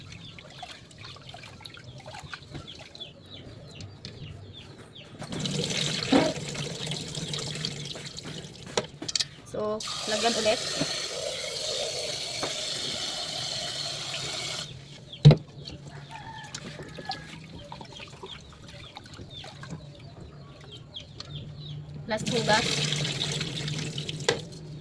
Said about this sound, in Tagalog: Lagyan ulit ng tubig. Patayin ang gripo. Hugasan ulit.